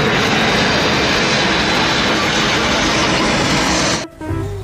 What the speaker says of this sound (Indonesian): This is plane.